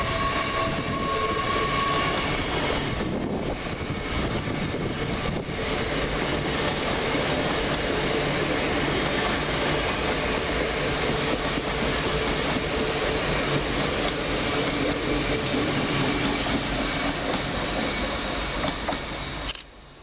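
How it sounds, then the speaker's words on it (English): British Rail Class 800 unit 800 102 on a Harrogate to London King's Cross service passes through Peterborough station as a loud, steady roar of wheels and traction, with a brief high squeal near the end. "And right behind that, running 8 minutes late, is 800 102, working 1 Alpha 29 from Harrogate to London King's Cross."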